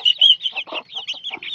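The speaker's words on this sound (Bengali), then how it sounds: "দেশি মুরগির খামার। আর এগুলো হচ্ছে দেশি মুরগির বাচ্চা" Native chickens and 24-day-old chicks on a small farm chirp and cluck close up, a shrill high peeping broken by a few lower clucks in quick irregular bursts, with no talking.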